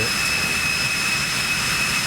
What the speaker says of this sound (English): for the last airplane of the day, it is none other than the beautiful Citation